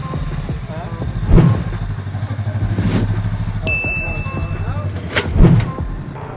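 New Honda motorcycle pulling away, engine revving near and loud with sharp bursts and rising pulls over a steady low idle rumble, people talking nearby.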